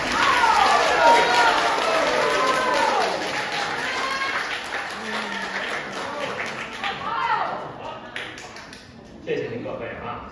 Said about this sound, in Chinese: 谢谢大家伙这么热情的掌声啊